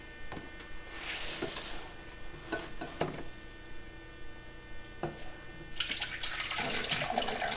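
Liquid pours from a pot of sauerbraten into a sink, a steady faint trickle and splash over a constant electrical hum, growing louder and fuller toward the end, with no talk.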